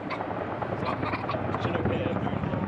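A Chinook helicopter performs at an air display at Bournemouth, its rotor drone a steady broadband roar heard from a distance beneath a commentator talking throughout.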